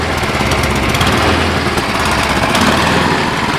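Cub Cadet 1030E snowblower running with its auger turning, a loud, steady high-revving small-engine drone with rattling mechanical chatter close to the microphone.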